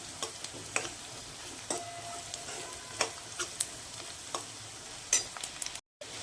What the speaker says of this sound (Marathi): लसणीची फोडणी दिली ना की छान चव येते त्याला